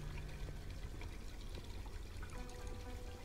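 Boiling hot water running from a tap in the video game Black Mirror 2, a faint, steady pouring trickle that continues for the whole clip with no voices.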